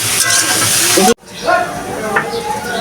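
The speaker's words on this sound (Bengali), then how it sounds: "আর একটু লবণ দেব দিয়ে এটাকে একটু ভেজে নেই হালকা করে ভাজবো" Food frying lightly in oil in a pan, giving a steady close sizzle with stirring. A brief drop to near silence follows, then the sizzling resumes more softly.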